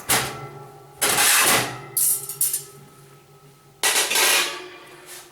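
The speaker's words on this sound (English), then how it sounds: "Next you need to remove all the shelving." Metal shelves pulled out of a cooker oven during thermostat replacement, giving several loud scraping, clattering bursts separated by quieter pauses, close by.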